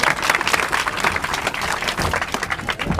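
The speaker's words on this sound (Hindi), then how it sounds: "तालियों से जरूर स्वागत।" An audience claps in a dense, steady burst of applause at a children's day program held by a coaching center, continuous and fairly loud for about three seconds with no talking.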